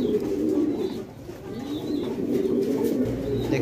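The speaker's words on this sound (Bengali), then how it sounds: "দেখতে পাচ্ছেন খুব সুন্দর কবুতরগুলো" Pomeranian pouter pigeons coo continuously in low, throaty murmurs, several birds layered together at close range with faint chirps in the background.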